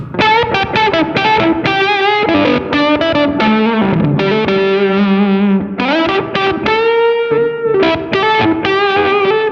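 A loud electric guitar through a Bigfoot Engineering Octopus octave fuzz pedal paired with a King Fuzz, thick and buzzy, plays a riff of sustained, harmonically rich notes, with no voices.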